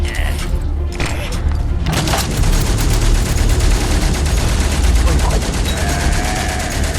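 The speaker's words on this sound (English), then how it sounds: "There's a guy right there, and he's just pointlessly firing away." Dense, continuous rifle and machine-gun fire from soldiers in the World War I video game Valiant Hearts: The Great War, loud and close, with rapid overlapping shots and thuds running throughout.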